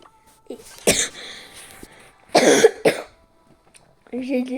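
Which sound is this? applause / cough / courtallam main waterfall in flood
cough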